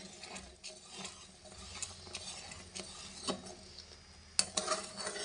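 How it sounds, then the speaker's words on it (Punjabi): A spoon stirs sugar into custard cooking in a pot, giving quiet, repeated scraping swishes with faint sizzling and one sharper clink near the end. "ਲਓ ਜੀ ਆਪਾਂ ਹੁਣ ਚੀਨੀ ਨੂੰ ਮਿਕਸ ਕਰਦੇ ਆਂ"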